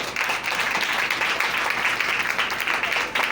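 An audience at a gathering applauds loudly and continuously, a dense, even roar of many hands clapping that holds steady from start to finish.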